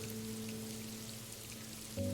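Steady rain falling in a continuous hiss of drops on a surface, with a low droning hum underneath that swells near the end.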